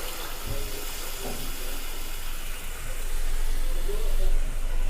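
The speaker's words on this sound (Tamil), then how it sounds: "புளி எடுத்து தண்ணியில் ஊற்றி இந்த மாதிரி கரைச்சி வச்சுருக்கேன் அதை வந்து இப்போ இந்த ஸ்டேஜில் நம்ம அப்படியே ஊற்றிக்கலாம்" Tamarind water is poured steadily into a pot of Tamil vatha kulambu with sundakkai, a continuous loud liquid rush and splash that swells slightly toward the end.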